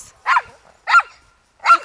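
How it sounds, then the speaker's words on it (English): A dog barks at fireworks in three sharp, close barks spaced evenly apart, with quiet gaps between them. "I think she's barking at the fireworks."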